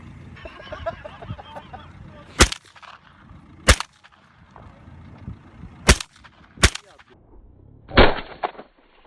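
A Safir T14 firearm fires a magazine on a range in Türkiye, giving five sharp, loud gunshots spaced irregularly over several seconds with quiet gaps and faint background noise between them.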